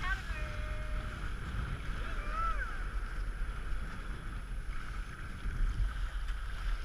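A sailboat out on the water near Cancun, faint steady wind and water wash with soft creaks and whistling tones, voices talking quietly over it.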